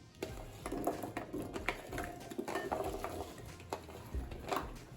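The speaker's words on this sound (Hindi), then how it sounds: "फ्रूट को हम इस बॉल में डालेंगे जो मैंने कट किए थे" Cut fruit for fruit chaat dropped into a bowl, irregular soft thumps, clicks and light rattles of pieces landing and shifting against the bowl, close and fairly quiet.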